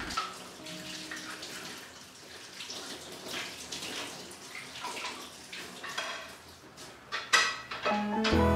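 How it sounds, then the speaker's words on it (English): Wooden spatulas are rinsed under a running kitchen tap, a soft continuous splashing and trickling stream with small clatters near the end, fairly quiet and close with no talk. "now I'll just wash them under running water"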